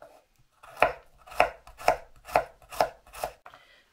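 Garlic cloves are sliced thin with a knife for sweet-and-sour pickled cucumbers, six crisp, evenly spaced knife strikes on a cutting board, close and clear with nothing else audible.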